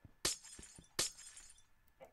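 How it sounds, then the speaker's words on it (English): Stained glass blocks shattering in the Minecraft video game, two sharp bright breaking crashes about a second apart, with a softer clink near the end. "could break stained glass"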